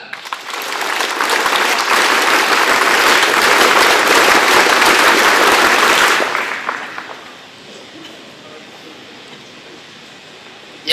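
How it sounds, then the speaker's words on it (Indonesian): A large gathering at a Scout Day ceremony performs the scout clap, a loud, dense burst of group clapping that runs for about six seconds and then stops sharply, leaving a quiet room. "Dua kali tepuk pramuka."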